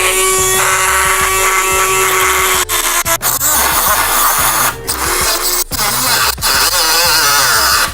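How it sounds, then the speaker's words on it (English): A power tool cuts through a metal rivet during bulkhead removal, a continuous loud high-pitched grinding whine with brief dips where the cut pauses, steady and close throughout. "I have cut all the way through the rivet."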